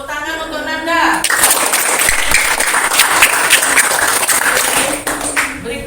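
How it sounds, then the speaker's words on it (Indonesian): A classroom breaks into lively applause for a student named Nanda, a loud, dense burst of clapping after a brief spoken moment, fading near the end as voices return. "tepuk tangan untuk Nanda"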